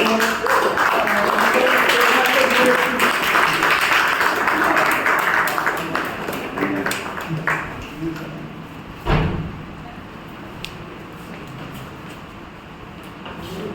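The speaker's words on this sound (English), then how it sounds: "Please have a big round of applause" Applause at a Toastmasters club meeting rises loud at first, then thins out and fades, with a sharp thump near the end and the room going quieter.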